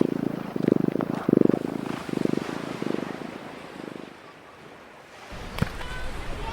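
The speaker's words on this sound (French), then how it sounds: "Elle ronronne de plaisir." A cat purrs on a beach in a run of soft rhythmic pulses up close, fading out before a brief quiet stretch with a faint wash of sea and a sharp click near the end.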